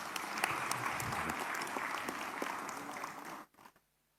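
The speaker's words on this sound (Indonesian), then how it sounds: "Boleh tepuk tangan dong" Applause fills a parliamentary committee session, steady and moderately distant, then cuts off abruptly near the end.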